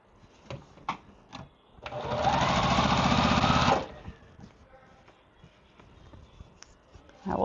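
A sewing machine stitches quilt pieces together in one steady, loud run of about two seconds, with quieter handling taps and clicks before and after.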